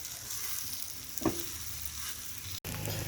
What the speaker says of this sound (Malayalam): ഈ മസാലയൊക്കെ എല്ലായിടത്തും ചേർന്ന വിധത്തിൽ ഒന്ന് ഇളക്കി റെഡിയാക്കണം